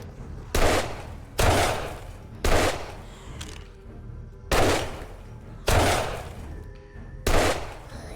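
Gunfire in the video game 7 Days to Die: six heavy, loud bursts spaced about a second apart, each ringing briefly before fading, with no talk.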